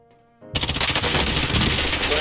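Call of Duty Warzone gunfire erupts after a brief quiet tone: a loud, rapid automatic burst rattling continuously at close range, dense and sustained until the end.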